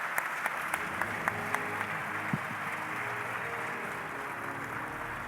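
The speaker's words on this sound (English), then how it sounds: "let's give them a round of applause, ladies and gentlemen." An audience at a special announcement event gives a sustained round of applause, an even, dense clapping texture with a few louder individual claps standing out early on.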